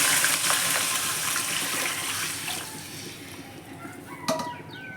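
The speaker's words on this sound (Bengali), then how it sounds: "জল দিয়ে দিলাম আগে" Water poured into a cooking pot with onion, ginger and garlic paste for pulao, a close rushing gush that gradually softens into a trickle, followed by a few light clinks near the end.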